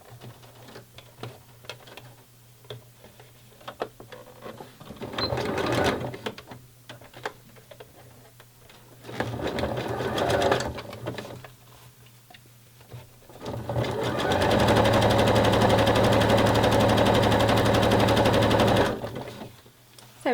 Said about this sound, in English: I'm just going to make my 3-step zigzag stitch just a little bit narrower for the front.